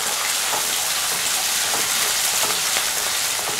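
Kanthari chillies and curry leaves sautéing in hot oil over a medium flame for kanthari pickle, giving a loud, dense, continuous sizzle with small crackles and spits throughout.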